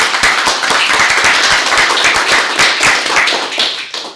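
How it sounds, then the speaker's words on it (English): Audience applause after a first-year mock trial competition round, close and fairly loud clapping with distinct individual claps standing out, fading slightly at the very end. "I want to give all of you a round of applause."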